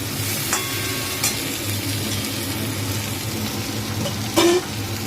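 Vegetables frying in a pan: a steady close sizzle with stirring scrapes, a few sharp clicks of the utensil against the pan and one louder scrape near the end.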